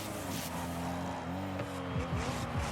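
A McLaren car in Rocket League hums with a steady engine tone that shifts pitch as it maneuvers, with brief tire squeals near the end and faint voice underneath.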